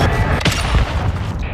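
A cruise missile strike in Modern Warfare 2 multiplayer, heavy rumbling booms and scattered blasts rolling through a loud battlefield din.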